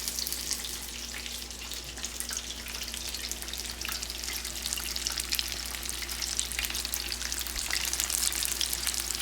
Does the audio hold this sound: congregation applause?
no